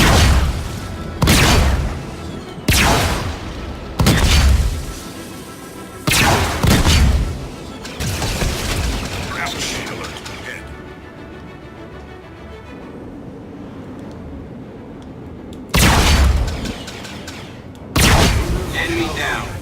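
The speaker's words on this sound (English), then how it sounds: "Those explosions are pretty." Enemy ships blow up during Star Citizen space combat, a series of loud booming blasts with heavy low rumble, spaced a few seconds apart, with a quieter stretch in between and voices speaking under them.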